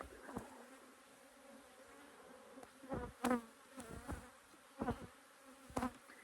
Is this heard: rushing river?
no